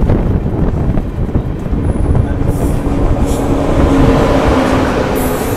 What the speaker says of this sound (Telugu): Vivek express crossing